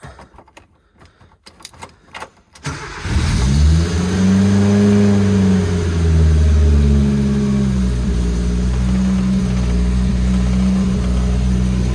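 A few clicks and cranks, then a Samurai car engine catches with the choke pulled and roars to life, revving up and down before settling into a loud, steady run nearby.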